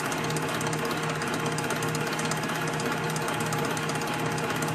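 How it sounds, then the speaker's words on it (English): An electric mixer whisks Hershey bar cake batter, producing a steady, loud motor whir with a fast rattling buzz that holds unchanged throughout without any speech. "I'm just going to let this whisk for just a minute."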